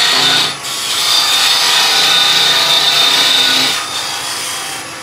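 Side-scraping a wooden piece on a spinning lathe, a steady, loud rasping hiss with a thin whine that holds for several seconds before easing off.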